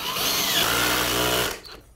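A power drill runs steadily at high speed for about a second and a half while an airbrush kit is being assembled, then cuts off abruptly, with no talk.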